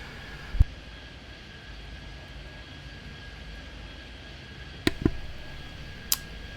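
Airplanes in the video game Airport Madness 3D give a faint, steady engine drone, broken by a few sharp clicks near the start and end.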